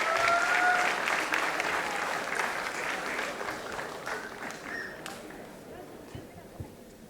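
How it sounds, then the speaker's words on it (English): Audience applause at a school staff felicitation ceremony honouring the principal, a dense steady clapping that starts loud and gradually thins and fades over several seconds. "A big round of applause for her, ladies and gentlemen."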